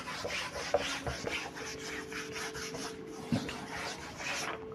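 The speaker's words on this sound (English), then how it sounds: "Let me rub the board." A classroom board being rubbed clean with an eraser: a run of soft, scratchy strokes sweeping back and forth at moderate loudness, with a couple of sharper knocks along the way.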